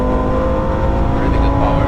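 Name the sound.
Audi RS3 8V accelerating away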